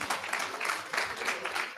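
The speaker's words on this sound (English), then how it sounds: "can we give them a big round of applause?" A big round of applause for panelists at a youth climate assembly, brief, dense clapping from the audience at a steady moderate level.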